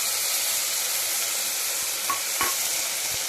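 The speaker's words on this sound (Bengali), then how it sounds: "পেঁয়াজটা হালকা ভাজা ভাজা হয়ে গেছে, এবার আমি এটাতে কিচ্ছু দেবো না, ডাইরেক্ট চালটা দিয়ে দেবো" Gobindobhog rice tipped into a pan of lightly fried onions, a loud steady sizzle with brief scraping stirs and a few soft knocks of the spoon against the pan.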